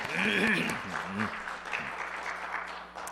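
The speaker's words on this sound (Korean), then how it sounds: "우리 박수로 환영해 주시기 바랍니다" A church congregation at a Sunday worship service applauds to welcome a visiting district superintendent, a steady wash of clapping that follows a voice and carries on alone.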